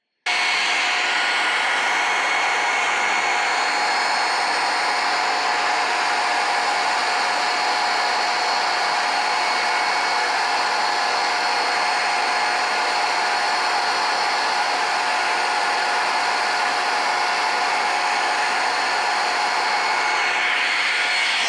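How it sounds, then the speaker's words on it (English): Commercial vacuum cleaner running nearby, a loud continuous whining roar with a steady airflow hiss that holds unchanged for about twenty seconds with no talk. "I hear a vacuum cleaner in the other doorway."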